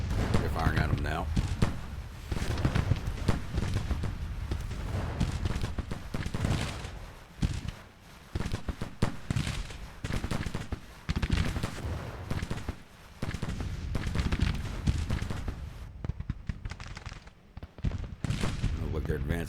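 Gunfire from troops in a Civil War video game, sharp musket and artillery cracks popping in scattered bursts across the battlefield while a voice talks over them throughout.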